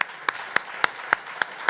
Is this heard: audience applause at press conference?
yes